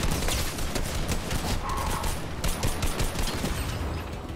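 Rapid bursts of gunfire in Fortnite ring out continuously and fairly loud, dense repeated shots over a busy game soundscape with no voices.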